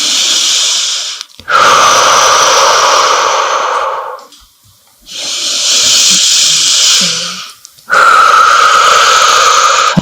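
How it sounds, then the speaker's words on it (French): Slow, deep yoga breathing during a floor session, with long, loud, airy inhales and exhales close to the microphone, separated by short pauses. "Insistez bien sur la respiration profonde."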